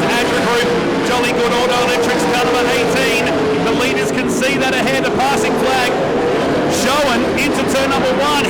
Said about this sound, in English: Will Jolly play the joker in this pack of 2 cars